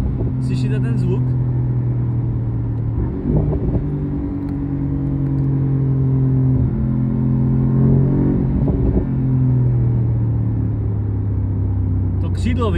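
A Mercedes SL 63 AMG engine drones steadily while driving, loud and close inside the car, with low harmonic tones that shift pitch as it accelerates and eases off.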